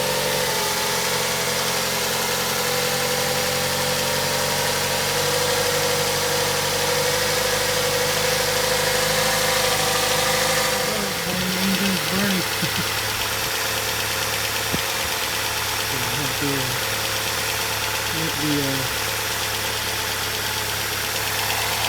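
Ford Fusion engine idling after a flex pipe replacement, a steady close hum and rumble with a slight shift in tone partway through, running on alone for over twenty seconds.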